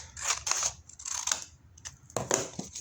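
Scissors cut paper for a scrapbook album in several short crisp snips at close range, grouped in small bursts with brief pauses between them.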